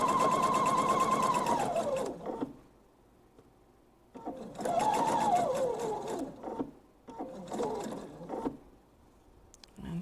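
Sewing machine stitching a fabric thread catcher in bursts, each a steady whirring run of a couple of seconds that slows near its end, separated by short pauses, close and fairly loud.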